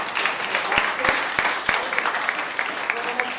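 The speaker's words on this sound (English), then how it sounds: "I'd like to have everybody clap with me" A handful of sharp, separate claps ring out at a slow, uneven pace over a low crowd murmur.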